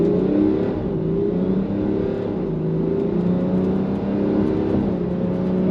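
A BMW X5 3.5d diesel accelerating hard from a standstill, its engine note rising steadily through a gear, then dipping briefly at a shift and climbing again, loud and heard from inside the cabin.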